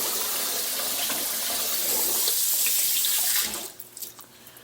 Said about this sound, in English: you can give it a rinse if you like